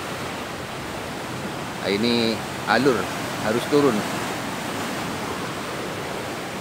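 Large sea waves crash below a cliff near a swiftlet nesting cave, forming a steady, loud surf roar that fills the whole scene while someone speaks briefly over it.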